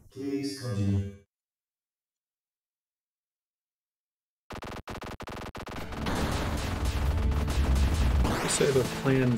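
Bombs explode in the shoot-'em-up game ZeroRanger: a quick burst of game sound, then silence, then a dense, loud barrage of booming blasts and crackling gunfire that swells and keeps going to the end.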